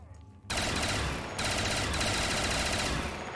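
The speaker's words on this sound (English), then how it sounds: "Oh, this seems like a laser beam, dude." Rapid, sustained laser beam weapon fire in Black Ops 3 custom Zombies, a dense continuous burst that starts abruptly after a brief quiet moment, with a short dip before it resumes loud and steady.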